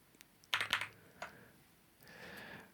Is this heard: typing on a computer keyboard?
yes